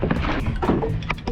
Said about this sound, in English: Kayak back to our boat